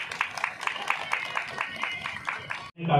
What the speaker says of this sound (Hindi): तालियों की गड़गड़ाहट से थोड़ा आसमान गूंज उठे तो बहुत अच्छा लगेगा।